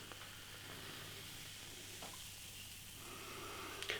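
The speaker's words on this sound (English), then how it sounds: "Nice levels of carbonation." A glass of freshly poured golden IPA fizzes with carbonation. A soft, steady crackling hiss of bursting bubbles continues throughout, quiet and close with no voices.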